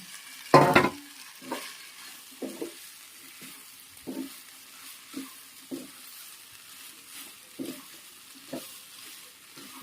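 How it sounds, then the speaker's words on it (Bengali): Previously fried vegetables tipped into fried spice paste in a pan: one loud splashing clatter as they drop in, then a series of regular spoon scrapes and stirs over a faint sizzle. "এবার আমি ভেজে রাখা সবজিটা অ্যাড করব।"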